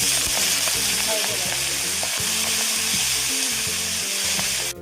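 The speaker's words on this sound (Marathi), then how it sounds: "जिरे तडतडला आहे" Cumin seeds crackle and sizzle steadily in hot oil as tempering for a thin fenugreek-leaf curry, a dense close-up frying hiss with quick popping bursts throughout, no voices.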